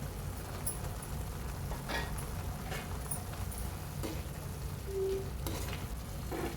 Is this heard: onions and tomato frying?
yes